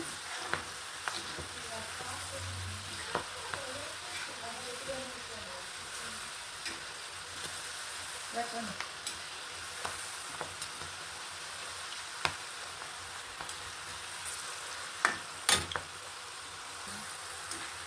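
Avarebele field beans frying in hot oil for a crunchy mixture, a steady soft sizzle and froth with scattered small pops and occasional stirring clicks throughout.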